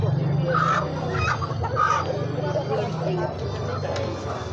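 Chickens clucking and a rooster crowing at a free-range poultry fair in Altinho, Pernambuco, busy and close, with people talking over the birds throughout.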